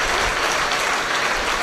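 Congregation clapping hands in praise during a Christian worship and prayer service, a dense, even wash of many hands beating steadily, fairly loud, with no speech on top.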